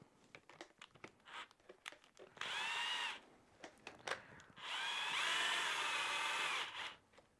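A power drill backs a screw out of a Subaru hub in two close, loud whirring runs, a short burst and then a longer steady one, with light handling clatter between them.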